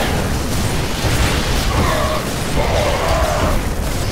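Artillery fire from a siege tank in StarCraft II, a dense, loud rumbling burst with mechanical clanks layered over continuous game noise, heavy and close throughout.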